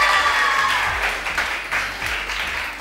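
A studio audience at a Pakistani TV talk show applauds a guest named Fahad with dense, steady clapping that fades slightly toward the end.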